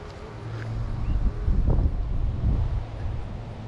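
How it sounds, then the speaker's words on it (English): Strong wind gusts on a beach at St. Augustine, Florida, buffet the microphone as a low, rumbling roar that swells in the middle and then eases slightly. "this wind is really starting to pick up"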